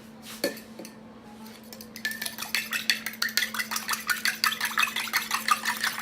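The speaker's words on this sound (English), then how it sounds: "Give it a good mix." A metal utensil briskly stirs egg into flaky biscuit dough in a bowl, giving a steady, quickening series of close clinks and scrapes against the bowl beside a constant low hum, with no talk.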